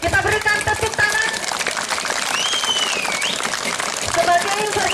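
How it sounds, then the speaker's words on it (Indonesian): An audience at a church launch ceremony in East Nusa Tenggara, held for a symbolic first planting, claps continuously while a person keeps speaking over the applause. "Kita berikan tepuk tangan."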